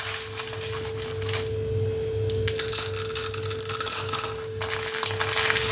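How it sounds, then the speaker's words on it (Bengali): Dry Maggi instant noodle cakes crushed by hand in a home kitchen for a chira-and-Maggi recipe, giving a steady crackling crunch that runs throughout over a constant low electrical hum. "এখন বন্ধুরা ম্যাগিগুলো আমি এইভাবে গুঁড়ো করে নেব।"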